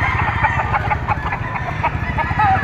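Stag roosters at a Batangas auction market crow and cluck over one another in a steady, crowded chorus, near and loud, with repeated sharp calls standing out.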